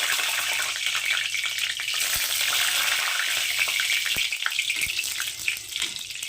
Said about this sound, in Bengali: তো লঙ্কা দুটো একটু হালকা ভেজে নেব।